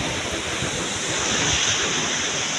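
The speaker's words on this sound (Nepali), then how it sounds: "झरना यो हो झरना।" A waterfall roars in a steady, loud, broadband rush with no break, heard close up with wind buffeting and light rain falling.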